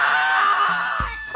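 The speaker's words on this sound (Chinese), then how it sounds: "听见了正好在博览馆的吉克堂堂弟发出了一声惨叫" A single short cry of pain from a man in a museum hall, a brief strained wail cutting in near the end over a steady background hum.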